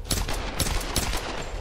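Rapid bursts of gunfire in the Tomb Raider video game crack out in a quick, dense volley, loud and close, with no talk over them.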